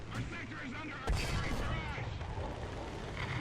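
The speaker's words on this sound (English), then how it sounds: "I'm pulling back because apparently I'm under artillery fire" Artillery fire in War Thunder during a simulator tank battle with a T-34 and StuG III, a sharp shell impact boom cutting through ongoing engine rumble and distant battle noise, with a voice talking over it.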